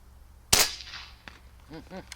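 A single sharp gunshot cracks once, close and loud, aimed at a bottle and pine cone target outdoors, its report trailing off, followed by faint speech.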